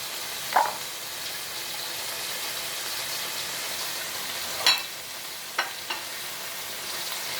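Squid and scallions stir-frying in hot oil give a steady, fairly quiet sizzle with a few sharp scrapes and clinks of a spatula, no talk.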